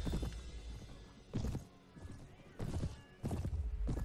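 Horses clatter in repeated bursts of hoofbeats on a Mount & Blade Warband battlefield, with neighing mixed into a busy game soundscape and a voice talking intermittently.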